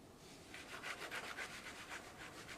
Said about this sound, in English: I want to use a serrated knife with our apple pie because I want to kind of cut through the lattice